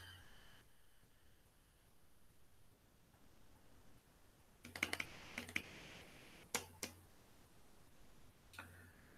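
Numbers are typed on a computer keyboard during a spreadsheet calculation. After a quiet stretch, small bunches of sharp key clicks come in the second half, close and fairly soft.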